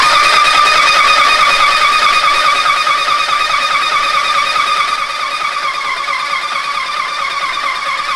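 Titan 440 airless paint sprayer running while cleaner cycles through its line, a loud steady whining motor drone with a constant high tonal hum, close up and unbroken, easing slightly in level partway through, no voices.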